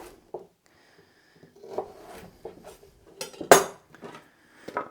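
A knife cuts carrots and potatoes into quarters on a board, producing scattered short chops and knocks with brief gaps between them, including one sharper, louder strike.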